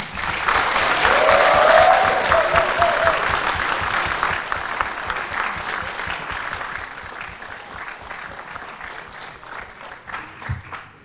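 At the Formula Student business plan presentation finals, an audience applauds loudly at first, then the clapping thins into scattered, distinct claps as it fades over about ten seconds.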